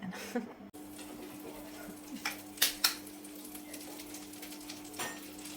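Home-laid eggs go into a frying pan, giving a faint sizzle broken by a few sharp clicks and knocks of utensils against the pan, with quiet talk nearby.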